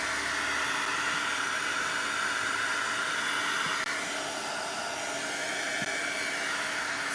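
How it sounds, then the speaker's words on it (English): A heat gun blows hot air over mixed media artwork on an altered paintbrush, giving a steady, loud, close broadband whoosh that holds nearly unchanged throughout. "heat gun going on"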